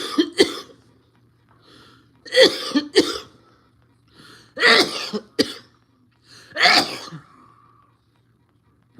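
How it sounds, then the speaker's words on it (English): After vaping, one person close by coughs in four or five harsh, throaty bursts spaced a couple of seconds apart, with quiet breathing and a low background hum in between. "All of a sudden, I just needed to cough."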